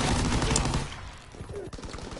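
An unusual gun in Call of Duty WW2 fires a dense burst of close, loud shots that fade off, followed by a few scattered fainter reports.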